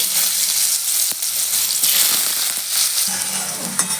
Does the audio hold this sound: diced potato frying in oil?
yes